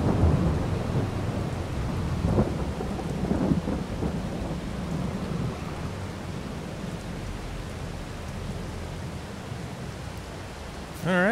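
Thunderstorm with steady rain in a small Missouri town, a broad continuous wash of rainfall with low rumbling thunder swelling through the first few seconds, fairly loud and sustained throughout.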